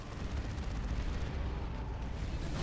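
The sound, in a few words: Manticore missile strike explosions in video game Dawn of War 2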